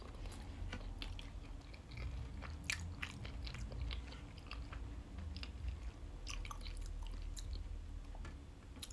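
Close, quiet chewing of sushi and sashimi, with soft wet bites and crunches repeating irregularly over a low background hum.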